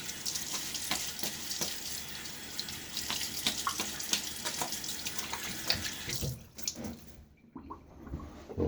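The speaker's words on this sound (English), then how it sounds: "All right, a little wash now, a little rinse." A bathroom tap runs hard into a sink while a face is rinsed after a shave with a Gillette Tech Hybrid razor. The water gushes steadily and close, with splashes, then cuts off near the end.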